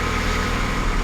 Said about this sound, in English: She doesn't sound, she sounds a little rough, especially on the startup